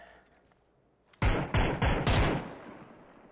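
A quick volley of four loud, close gunshots bursts out in PUBG after a near-silent lead-in, each crack trailing off into a fading echo.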